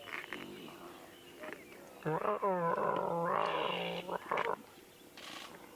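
A lion cub growls and rumbles in the wild during a safari drive, a close, drawn-out throaty call lasting a couple of seconds, with quieter sounds before and after.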